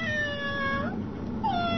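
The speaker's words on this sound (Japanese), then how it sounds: "ゴロゴロゴロにゃーって。" A cat meows in a radio drama sound effect: two drawn-out, tonal meows close up, with a short gap between them, over steady hiss and strong noise from a 1999 broadcast.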